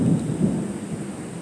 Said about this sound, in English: Thunder, that is.